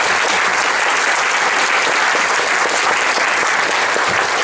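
A meetup audience at a Silicon Valley tech event claps loudly and continuously, a dense wash of many hands that holds steady for the whole stretch without pause.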